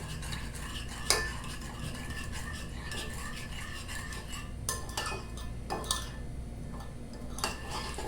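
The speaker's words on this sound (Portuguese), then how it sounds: "Com o auxílio de uma colher, você vai mexer para encorpar todos os ingredientes." A spoon stirs a mix of dry yeast and other ingredients for a cheese and ham dough, steady close scraping with sharp clinks against the bowl at irregular intervals, no voices.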